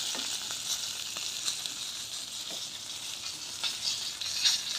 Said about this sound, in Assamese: ফ্ৰাই কৰি আছোঁ মই। তেলটো বেছি লগা নাই, অকণমান তেল লগাইছোঁ